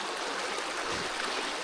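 A small trout stream runs high after rain, a steady close rush and gurgle of water that stays even and continuous throughout, with no voices.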